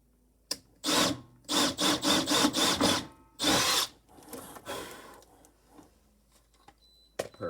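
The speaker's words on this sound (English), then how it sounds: "So, I'm going to drill my hole right about here." Power drill boring a hole for burglar alarm wiring during a DSC security system installation, heard as a string of loud, close bursts of drilling with short gaps, then a longer burst and some scraping.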